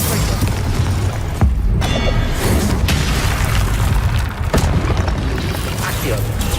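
Dense, loud magical blasts and booming bursts from Confringo and other spells fired in rapid combat in the video game Hogwarts Legacy, with continuous roaring noise and sharp impacts layered together.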